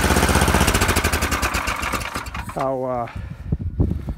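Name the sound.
tuned Honda snowblower engine running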